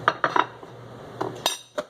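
A fork clinks and scrapes against dishes in a few quick, sharp taps, close and clear with short pauses between them.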